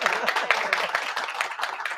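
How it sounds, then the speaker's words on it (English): An audience at an International Women's Day event claps in a dense, steady round of applause, close and continuous throughout. "I think that deserves another round of applause."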